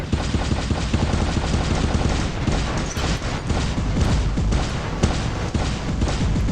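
Robots firing guns in the War Robots video game: dense, continuous gunfire and rapid bursts throughout, loud and unbroken with booms layered in the mix.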